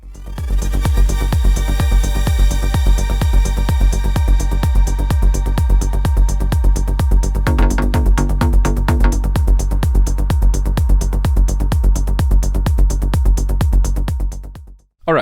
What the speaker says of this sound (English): we will use our ploink sound, and this is how it's going to sound like